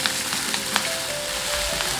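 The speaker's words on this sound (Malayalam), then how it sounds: "ഇതിലേക്ക് നമ്മുടെ കഴുകി നമ്മൾ അരിഞ്ഞ് വെച്ച നമ്മുടെ ചീര ഇട്ട് കൊടുക്കുക." Chopped native spinach frying with chilli and coconut in a pan, a steady dense sizzle close by with a few light stirring taps near the start.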